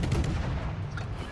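Naval gunfire in World of Warships, a Haida destroyer's guns firing on the battleship New York, heard as a loud rumbling salvo boom with a low, sustained roll that fades slightly.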